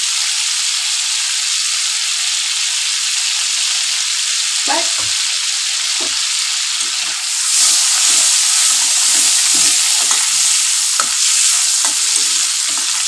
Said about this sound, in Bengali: একটু তেল দিয়ে একটা শুকনো লঙ্কা দিয়ে দিলাম তার সাথে একটু জিরে ফেলে দিচ্ছি